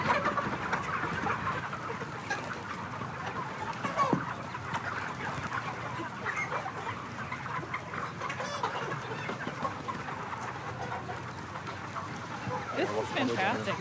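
Flock of chickens at a large higher welfare chicken farm, a busy continuous chorus of clucks and calls from many birds, with people talking over it at moderate level.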